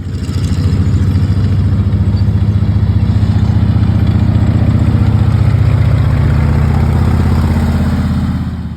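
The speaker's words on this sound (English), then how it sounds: "What's quite novel around this is it's got an aircraft radial engine" An aircraft radial engine fitted to a vintage vehicle runs close up at a steady idle, a loud, deep, even throb that carries on throughout with no speech.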